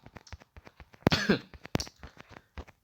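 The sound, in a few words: coughing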